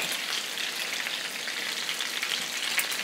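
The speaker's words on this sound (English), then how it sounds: "I'll continue frying the chicken" Chicken fries in a pan with garlic and lemon, a steady, hissing sizzle and a constant crackle, close up and unbroken, with no talking.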